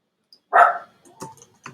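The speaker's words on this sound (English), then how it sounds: "Oh, that's my dog, guys." A pet dog gives a single loud, close bark, followed by a few faint clicks like computer keyboard tapping in a quiet room.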